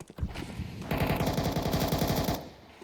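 Desert Eagle shots ring out during a Counter-Strike match. A single sharp report is followed by a dense, rapid burst of gunfire at close range that cuts off abruptly.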